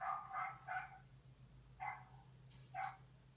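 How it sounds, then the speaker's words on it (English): Puppies barking several times in short bursts, a pair of yips, then a single bark and another pair after a pause, fairly close over a steady low hum. "We have puppies visiting us."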